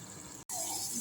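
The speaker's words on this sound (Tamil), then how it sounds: "இப்போ வந்து தண்ணி ஊற்றிடலாங்க" Water rushes steadily into a pot of basmati rice for a mushroom paneer mutter biryani, with a brief cut partway through before the pouring resumes.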